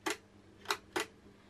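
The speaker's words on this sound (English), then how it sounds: "This is the shutter release button." A Kodak Brownie Model D camera's shutter release gives three sharp, close mechanical clicks, the last two coming in quick succession, against a quiet background.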